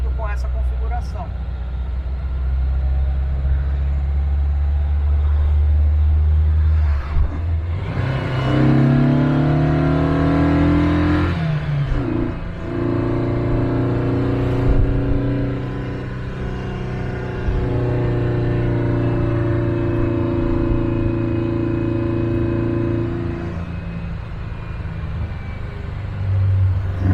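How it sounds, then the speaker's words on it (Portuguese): A 1957 car's engine pulls hard uphill, a loud rumbling drone that rises in revs through a gear change and settles into a steady strained tone, with someone talking over it. "agora tem outra subida e eu vou dirigir o carro como ele precisa ser dirigido com essa configuração"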